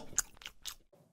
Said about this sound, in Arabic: هذا صوت اكل